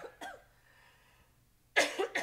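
A person coughing during a panel discussion, a few sharp, close coughs at the start and again near the end, with quiet room tone between them.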